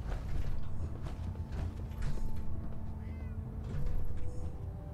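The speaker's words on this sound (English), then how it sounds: "There another cat down here?" A cat meows a few times inside the Fallout 4 game world, close by and of moderate loudness, set against steady low game ambience with faint creaks.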